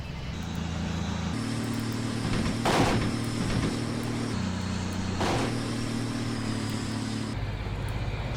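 A tank engine in a war video game set at the Battle of Cuito Cuanavale, a loud steady mechanical drone with shifting pitch steps and a couple of sharp bangs cutting through it.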